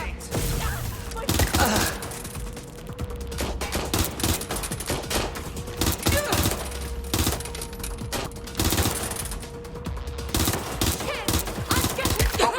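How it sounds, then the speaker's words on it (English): Dense gunfire in Watch Dogs Legion, repeated loud rifle bursts and single shots rattling in quick succession throughout, with brief game voices. "Taking fire!"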